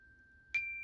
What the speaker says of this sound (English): pile 1 is going to be